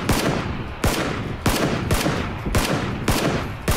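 Rapid gunfire in the battle royale game PUBG Battlegrounds, with about seven loud, sharp shots at a fairly regular pace, each followed by a short decay, with no talking.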